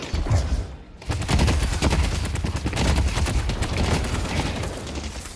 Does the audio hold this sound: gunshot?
yes